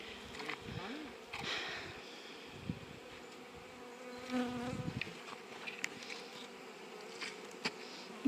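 Honey bees buzz steadily around an open hive in spring, a dense drone punctuated by individual bees passing close, while people talk quietly nearby.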